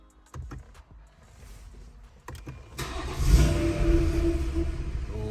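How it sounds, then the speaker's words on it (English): BMW F34 340i GT with the B58 engine, freshly tuned: a few clicks and relay taps, then the starter cranks and the engine catches, flaring up before settling into a slightly rough, steady close idle. "turn the ignition off, wait 5 seconds, and start the car"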